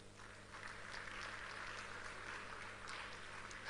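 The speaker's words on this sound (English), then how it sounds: "Can we give her a round of applause?" An audience claps at an awards event after a woman in the crowd is called out, steady moderate clapping with a few sharper individual claps, somewhat distant and without talk.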